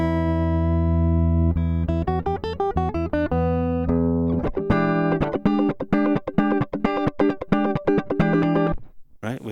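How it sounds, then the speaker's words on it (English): Electric guitar played through a MAGMA diode compressor, first a sustained chord ringing out for a few seconds, then a run of evenly spaced, punchy plucked notes and chords with tight, squashed attacks, loud and alone. "just hear the guitar with the compressor."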